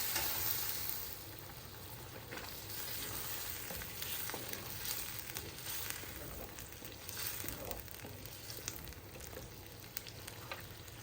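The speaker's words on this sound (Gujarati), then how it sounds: "So now I'm going to add the mustard green." Mustard greens frying and sizzling in a pan, a continuous dense crackle with occasional stirring scrapes, fairly faint and steady throughout.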